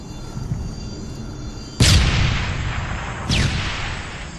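Gunfire in a Halo video game fight: two loud, booming shots land about a second and a half apart, each with a sharp attack and a long rumbling tail over a low background murmur.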